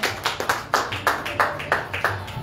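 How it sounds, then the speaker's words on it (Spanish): Congregation at a Spanish-language church service clapping in a steady rhythm, about ten sharp, evenly spaced claps, moderately close with faint background murmur. "Denle un aplauso al Señor."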